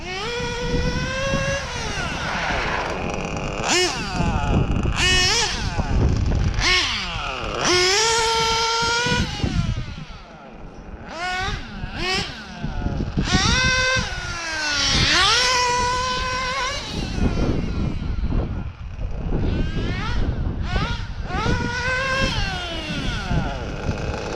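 A nitro-powered RC car engine runs loud and close, its buzzing two-stroke whine rising and falling through repeated blips and revs, then dropping back toward a low idle.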